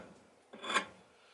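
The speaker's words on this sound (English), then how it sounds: "so I'll just use the axe head and scrape off some of this excess" A single short, faint rasping scrape as a steel axe head shaves excess wood from an oak axe handle.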